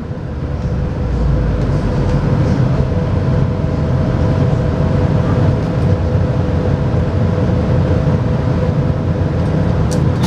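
The Las Vegas Monorail runs southbound between stations, a loud, steady low rumble and whine of the train in motion heard from inside the car, unbroken and constant throughout.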